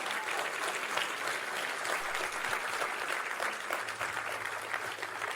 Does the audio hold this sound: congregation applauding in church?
yes